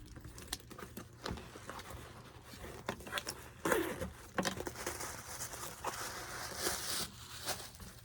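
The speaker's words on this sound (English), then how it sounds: "let's take the paper out of here" Paper pulled out of a gift bag, soft rustling and crinkling in scattered bursts, quiet and close, with sharper crackles midway and no speech.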